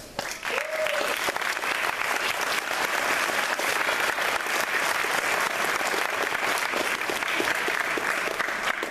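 Audience at a seventh-grade fall school band concert applauding to welcome the new band director, steady dense clapping filling the room after a brief voice at the start.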